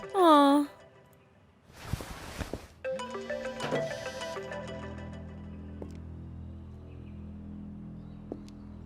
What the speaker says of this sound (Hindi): फोन उठाओ अपना